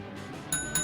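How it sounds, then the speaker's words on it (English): Two bright metallic bell rings sound on a podcast, each a sharp ding with a short ringing tail, close and clear against quiet room tone. "Ring that bell."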